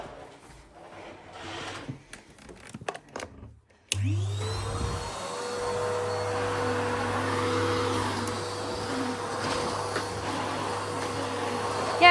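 Vacuum cleaner switched on after a few seconds of quiet handling clatter, then running loud and steady with a constant motor drone and rising whine throughout, during household zone cleaning.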